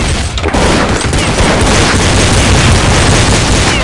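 A bomb detonates in Counter-Strike on the Pool Day map, a loud, dense explosive roar that fills the whole clip with sustained rumbling and crackling debris, no voices over it.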